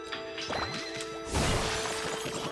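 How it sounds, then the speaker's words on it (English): Objects being smashed in the video game Okami: a burst of crashing and breaking noise hits midway, loud and close, over a busy layer of game music and effects. "I'm smashing shit."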